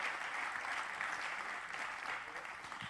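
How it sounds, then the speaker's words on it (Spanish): A church congregation claps for Jesus during a sermon: dense, steady applause from a crowd, somewhat distant and fairly faint, sustained for the whole moment with no talking. "Es digno de que le demos un aplauso a nuestro amado Jesús."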